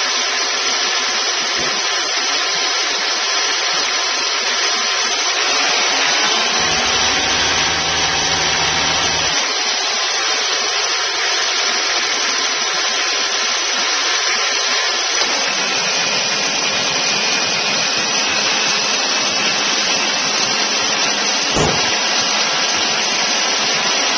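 A 2004 Honda Accord EX engine held around 2,000 RPM gives a steady mid-level hum. A brief low burst comes partway through, and a sharp click sounds near the end.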